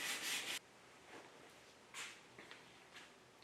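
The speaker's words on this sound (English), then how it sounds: "I'm going to sand it down with 320" Hand sanding of an amber shellac finish on a wooden workbench top with 320-grit paper: a loud, brisk rubbing stroke at first, then quieter, intermittent scratchy passes spaced apart.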